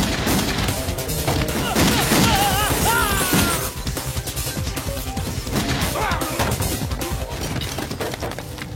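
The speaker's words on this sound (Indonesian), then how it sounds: "Pertarungan antar gangster pecah. Mereka saling tembak." Gunfire in a gangster shootout from a Mahesh Babu action film, a dense run of crashing shots and impacts mixed with music and effects, loud and continuous, easing slightly partway through.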